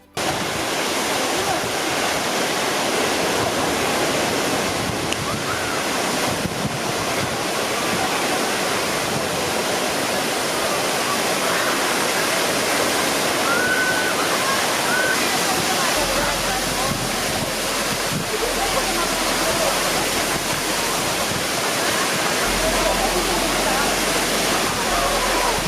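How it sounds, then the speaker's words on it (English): A waterfall on Jeju Island, South Korea, roars in a dense, steady rush of broadband noise, close and loud throughout, with wind buffeting the microphone and occasional faint voices beneath. "you can go right up to the roaring waterfall for a selfie"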